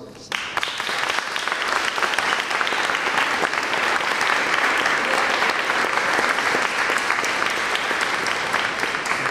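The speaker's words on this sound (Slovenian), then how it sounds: "en aplavz" Sustained, dense applause from a tour group inside the presidential palace, steady and loud from start to finish after a brief quieter opening.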